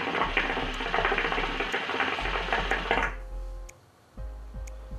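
Shisha water pipe bubbling during smoking, a rapid gurgling churn of bubbles that runs steadily up close, stops abruptly, then resumes briefly with a few scattered pops.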